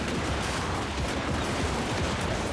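Handgunner volley fire rolls across a Total War: Warhammer 3 battlefield, a dense continuous crackle of many overlapping gunshots at steady loudness with no pauses, the massed muskets of Empire infantry.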